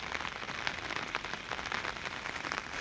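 Light rain falls steadily on rice fields in a village farm setting, a soft, even patter of drops with no voices or other sounds over it.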